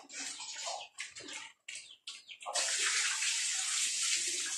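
Water poured into a piglets' feeding trough on a backyard pig farm, broken splashing bursts at first, then a steady continuous gushing pour from about two and a half seconds, close and alone.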